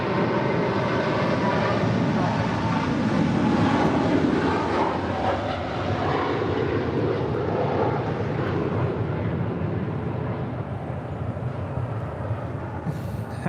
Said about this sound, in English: That is Polar Air Cargo Flight 9601 departing to Seoul on a 747-8 freighter